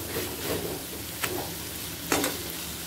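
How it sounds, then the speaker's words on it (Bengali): Shrimp curry masala sizzling and frying in a pan over a medium gas flame, a steady close crackle with two brief louder stirring scrapes. "এবার ভালো করে কষিয়ে নেব। গ্যাসের ফ্লেমটাকে মিডিয়ামে করে রেখেছি।"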